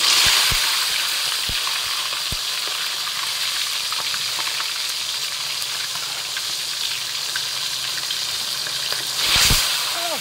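Fish frying in a hot pan with eggplant, chili and moringa leaves, a steady close sizzle and crackle with a few sharp pops and a brief clatter near the end.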